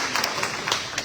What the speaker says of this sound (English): Give a round of applause to the board of elections.